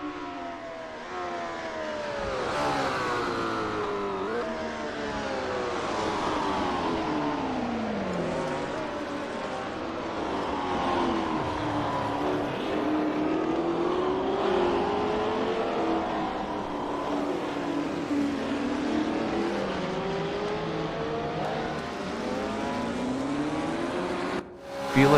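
Race cars in a Daytona racing game, including a Porsche, droning and shifting pitch continuously as engines rev up and down through gears, a steady close layered engine roar with no talking.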